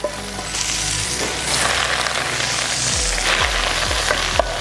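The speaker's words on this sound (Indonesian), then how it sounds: "Ini kita buat tumis apa kentang sama bayam ya." Potatoes and spinach, garlic spinach with baby potatoes, stir-fry in a hot pan with a dense steady sizzle, broken by repeated scraping knocks of stirring toward the end, close and without voices.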